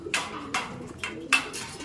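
A pigeon coos nearby in short, repeated puffs, about three or four soft calls spaced evenly apart.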